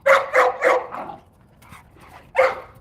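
A dog barks three times in quick succession, then gives softer whimpering yips before one more loud bark, close and clear outdoors in mud with no talk over it.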